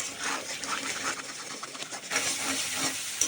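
Ground spices such as coriander, cumin and garam masala being stirred and fried in a pan for jackfruit kofta curry, giving a steady close sizzle and hiss with scraping stirs.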